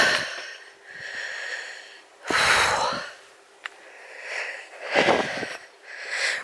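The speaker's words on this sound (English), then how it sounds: "if my breathing sounds a bit laboured. I'm actually going uphill." Heavy, laboured breaths from a hiker climbing a steady uphill path past bracken, with several loud gasping and sniffing bursts close to the microphone over a continuous outdoor background.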